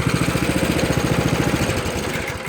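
A Coleman mini bike engine idles close by, a rapid, even putter of small single-cylinder pulses that stays steady and loud from start to finish.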